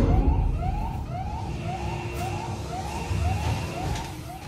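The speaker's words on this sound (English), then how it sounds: "More harsh sound effects and another siren kicks in," A wailing siren in the video game Alien: Isolation sweeps up over and over in a steady rhythm against a low rumbling background, fairly distant and moderately loud.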